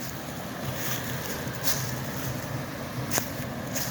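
Harvard Brook, a small woodland stream near Harvard Falls in New Hampshire, flows with a soft, continuous wash of running water, faint and steady with no speech.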